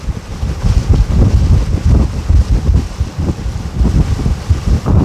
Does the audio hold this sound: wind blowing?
yes